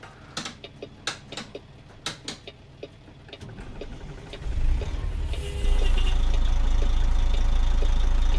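A Kenworth W900L truck engine in American Truck Simulator ticks and clatters at idle with sharp, evenly spaced knocks, then swells into a loud, deep, sustained roar as it pulls away.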